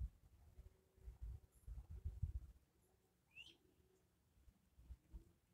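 Birds outdoors during an open-air yoga session in the Keys, with a soft dove-like coo and a brief high chirp over low rumbling wind, faint and somewhat distant.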